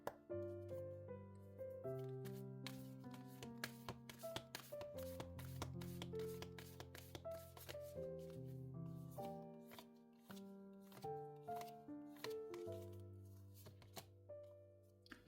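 Oracle cards are shuffled for a tarot reading, a run of quick, papery riffling taps over soft, sustained background music that plays throughout.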